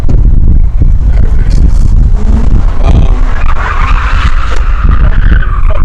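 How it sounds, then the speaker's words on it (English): Car skidding and spinning out of control, loud and close, with sustained tire squeal and engine roar over continuous rumbling road noise. "It looks like he spun out of control."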